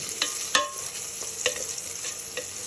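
Garlic frying in a hot pan, with about half a head added to butter for garlic butter shrimp, gives a steady soft sizzle and a few sharp stirring scrapes and clicks close up.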